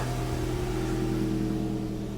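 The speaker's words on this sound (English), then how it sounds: "just focus on letting the engine warm up." A 2005 Nissan Altima engine idles steadily while warming up, a low, even hum with a constant tone that holds unchanged throughout, heard close with no talking.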